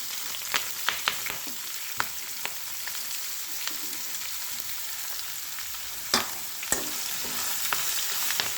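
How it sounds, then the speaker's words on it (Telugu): Onion and green chilli pieces frying in oil with curry leaves, a steady close hiss with scattered sharp pops and crackles standing out above it. "ఇప్పుడు ఉల్లిపాయ ముక్కలు, పచ్చిమిరపకాయ ముక్కలు వేస్తున్నానండి."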